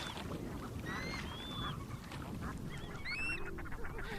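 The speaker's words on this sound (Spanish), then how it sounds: "No falta el inconfundible pato de la Puna, con su pico azul y capuchón negro." Puna teal ducks call at a high-altitude lagoon in Chile's Atacama Desert, scattered whistled and nasal notes rising over a steady rushing wind or water background, with several calls overlapping toward the end.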